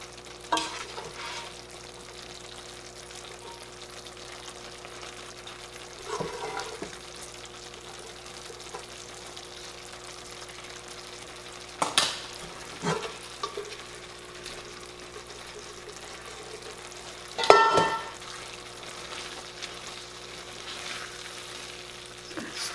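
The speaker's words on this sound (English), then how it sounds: "Stir it all up carefully here so noodles get coated with the meat and the sauce." Noodles frying in a skillet with meat and sauce are stirred, giving a steady low sizzle with occasional soft scrapes and clinks of the utensil against the pan.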